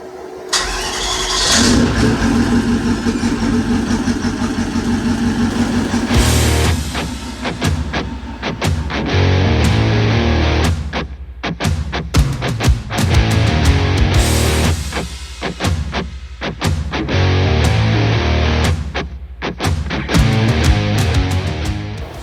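A heavily modified car engine on a dyno, driven under load up to about 140 km/h, starts and roars loud and close, then revs hard in repeated surges and drops with brief lulls between bursts.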